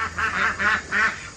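A few drawn-out duck quacks close at hand, three or four honking calls in a loose rhythm with no talking.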